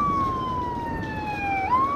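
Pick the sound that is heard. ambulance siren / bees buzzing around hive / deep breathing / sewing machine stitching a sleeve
ambulance siren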